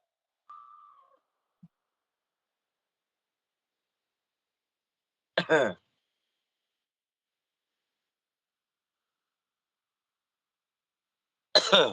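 Two separate harsh coughs ring out several seconds apart in near silence, each brief and close, after a faint short tone at the start.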